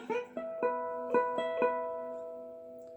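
Electric guitar lead line from a song played alone, about six clear plucked notes in a rising-and-ringing pattern, the last held and slowly fading.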